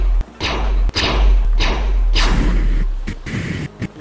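Heavy, bass-laden gunfire in VRChat: a series of deep booming shots, roughly five or six, fired at an uneven pace with thick low-end thuds and no talking.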